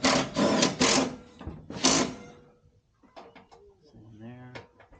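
Bolts on a Rough Country cold air intake on a 6.2L Chevy Silverado being run down with a 10mm socket on a drill, two loud whirring bursts up close, then quieter clicks and a short mechanical whine.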